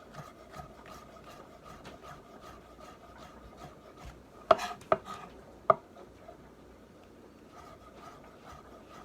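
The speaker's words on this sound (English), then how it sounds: "So our shiitake mushrooms are just about chopped up" Knife chopping shiitake mushrooms on a board for beef bourguignon: a low, steady scraping and tapping bed with a few sharp, close chops bunched together near the middle.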